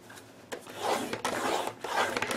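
A scoring tool is drawn along paper for a triangle box, making several close, dry scraping strokes in quick succession with short pauses between them.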